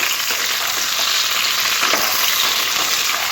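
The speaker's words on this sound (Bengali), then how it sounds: "সবজিগুলো তেলের মধ্যে ভালো করে নাড়াচাড়া করে একটু হালকা করে ভেজে নিতে হবে" Steamed vegetables for shukto fry in hot oil with a dense, continuous sizzle that holds steady and close, with faint stirring scrapes underneath and no voices.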